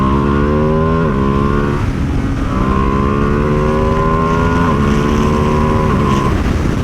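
A 2025 Ducati Panigale V2S sport bike accelerates hard on a highway, its engine note climbing through several gear shifts under steady, loud wind roar.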